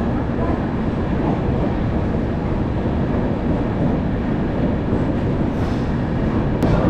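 An Indian passenger train, the Gondwana Express, pulls out of Mathura station, heard from inside a coach as a loud, dense, continuous rumble of wheels and carriage noise, with a faint squeal near the end.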